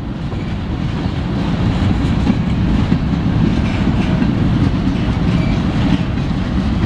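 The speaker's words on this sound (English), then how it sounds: "We got another train coming." A CSX freight train rumbles steadily past at Fostoria, Ohio, a loud, close, continuous roar of wheels and rail cars with faint clickety-clack and no pauses.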